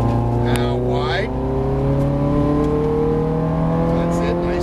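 A Ferrari engine accelerates hard on a race track near 120 mph, a loud, close drone climbing steadily in pitch. A voice speaks briefly over it early on.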